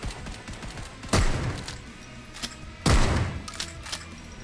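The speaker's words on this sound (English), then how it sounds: "there's just something about a good old trench gun" Trench gun shotgun blasts in Hard Bullet VR, two loud, punchy shots about two seconds apart, each with a booming low tail, over quieter background game noise.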